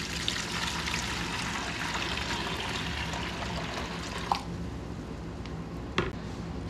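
Liquid pours in a steady splashing stream for several seconds, then stops, followed by a couple of drips and small clinks.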